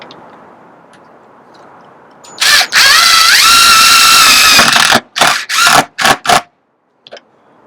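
Power driver spinning screws into a Fantastic Vent roof fan on a bus conversion tiny house: one long whirring run, then several short sharp bursts, loud and close.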